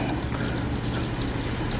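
A Panasonic top-load automatic washing machine fills with water during its rinse cycle, a steady rushing, splashing flow of water into the drum, continuous and close.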